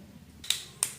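Mustard seeds hit hot oil in a kadai used for brinjal gravy, giving three sharp, bright pops spaced about a third of a second apart over a faint low background hum.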